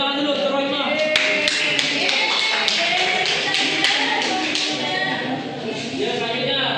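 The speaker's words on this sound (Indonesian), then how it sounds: "kasih tepuk tangan dulu untuk Rohima" A classroom claps for a student named Rohima after her presentation during a practice teaching session, scattered sharp hand claps rising over steady chatter and shuffling, fairly close and loud throughout.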